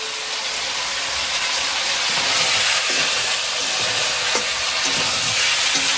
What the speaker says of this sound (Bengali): তো এই যে এখানে মাংস রান্না হচ্ছে